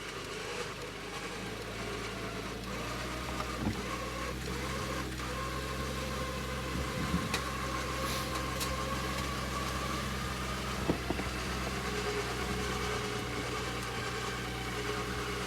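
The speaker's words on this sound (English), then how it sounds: "give it just a tiny little bit of gas" Subaru engine running low and steady near idle, a faint rumble with slight rises as a little gas is given while it is being recovered off-road by a Jeep Gladiator.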